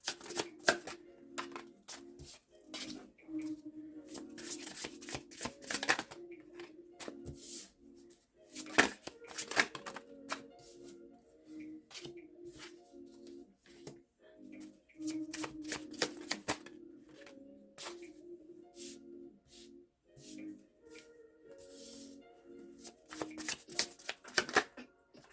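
A deck of cards being shuffled and handled close by, with repeated riffling bursts and soft flicking and tapping between them, no voices.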